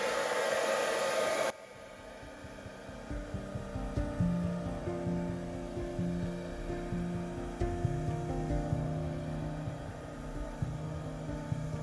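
A hair dryer blows steadily across wet acrylic paint during a Dutch pour, a loud broadband rush that drops sharply after the first second and a half to a lower, steady airflow with hum underneath.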